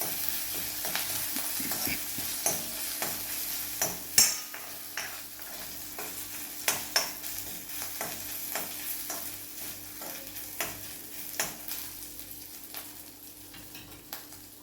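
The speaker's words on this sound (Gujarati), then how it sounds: "જીરું આપણું તતડી ગયું છે તો એની અંદર 1 ટીસ્પૂન જેટલા આદું અને લસણની પેસ્ટ એડ કરીશું અને એને 1 મિનિટ માટે સાંતળી લઈશું" Ginger-garlic paste sizzles in hot oil with crackling cumin seeds, a steady fry under repeated sharp stirring clicks of a spoon against the pan, close and continuous with no voices.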